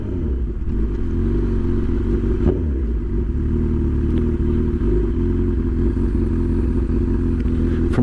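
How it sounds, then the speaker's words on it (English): Fast sport motorcycle, a bike likened to an MT-09, cruising on an open road; a steady, loud engine drone with heavy wind rumble, continuous throughout with no talking. "This is a super fast bike."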